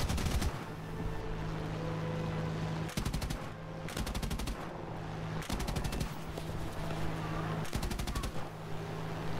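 Machine gun fire in War Thunder, several long rattling bursts at a fast steady rate, separated by short pauses, loud against a constant engine drone.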